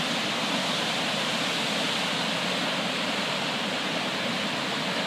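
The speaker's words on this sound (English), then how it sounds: "this is one of our beautiful waterfalls in Hamilton" A waterfall in Hamilton gives a steady, loud, broadband rush of falling water with no pauses or voices.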